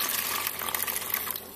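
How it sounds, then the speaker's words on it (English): Water from a bucket and rag is applied to the skin for a fake tattoo, giving a brief, close, steady wet hiss and trickle. "You apply some water, and that's why our bucket and rag is sitting right here."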